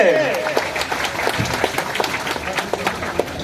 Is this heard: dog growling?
no